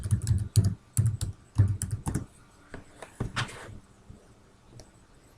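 Fingers type a password on a computer keyboard, a close run of sharp clicky keystrokes in quick bursts that thin out into a few scattered presses, with no speech.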